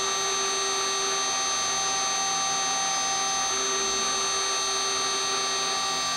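A 4-axis CNC router makes a shallow engraving pass, giving a steady whining spindle hum with fixed tonal lines and a constant, fairly loud level throughout, with no speech.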